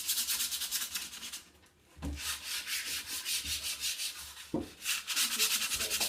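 Close rhythmic rubbing on chalk-painted furniture to distress the finish, quick back-and-forth abrasive strokes in steady bursts, with a brief pause and a couple of soft knocks.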